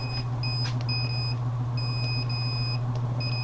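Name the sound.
incubator alarm buzzer beeping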